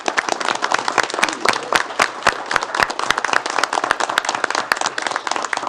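Applause at a city council meeting in Allen Park, a small group clapping with distinct, sharp individual claps forming an uneven, lively patter close to the microphone for several seconds.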